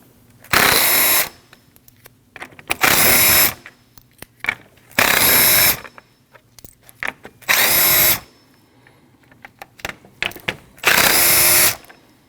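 A power drill driver runs in five short bursts, whirring loud and close while backing out the 10mm bolts across the bumper of a 2013-2019 Ford Escape 1.5L, with small clicks and handling noises in the pauses.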